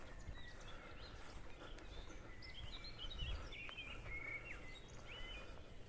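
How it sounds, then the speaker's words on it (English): Several kinds of birds chirp and call through an arboretum, scattered tweets and short whistled phrases over a steady outdoor hush, with a soft thud of footsteps partway through. "So I'm hearing so many different types of birds as we're walking around here."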